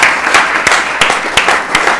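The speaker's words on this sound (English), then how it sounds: "Round of applause for all of those again." An audience applauds after conference talks, a steady close wash of clapping with a few sharper individual claps, lasting a couple of seconds.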